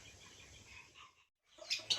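Small birds kept on a backyard farm chirp in short bright bursts near the end, a quiet low hum running underneath with a brief silent gap before the calls.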